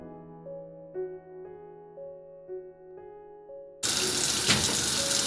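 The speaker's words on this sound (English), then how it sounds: "let's wash them hands" A kitchen tap turns on for hand washing and runs in a loud, steady rush of water, following a soft melodic tune that plays quietly before it.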